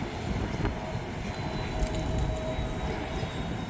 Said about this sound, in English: Well, there's that locomotive.